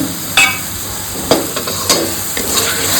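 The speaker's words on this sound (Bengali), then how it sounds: "ভালো মতো কষিয়ে নিতে হবে।" Spiced fish curry masala for a yogurt katla dish being stirred and sautéed in a pan, with a steady sizzle under repeated sharp scrapes and knocks of a spatula against the pan, close and fairly loud.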